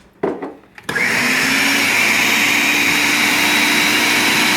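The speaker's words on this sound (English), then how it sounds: "What is it? A high-tech blender." A high-tech blender switched on with no blade fitted, starting after a couple of brief knocks into a loud, steady motor whine that holds constant and close for several seconds, with no voices.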